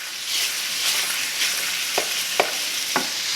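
Sausage sizzles and crackles in a hot pan, a steady frying hiss broken by a few sharp scrapes or stirs near the end.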